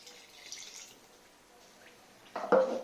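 Lukewarm water is poured into a bowl of flour, salt and poolish for a classic pot-baked bread dough, a short splashing pour that swells up at the end after faint earlier drips.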